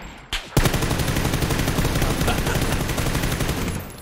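Rapid bursts of gunfire from PUBG on the Miramar map: a single sharp shot, a brief pause, then a dense, loud, continuous volley of automatic fire that runs steadily for several seconds before cutting off.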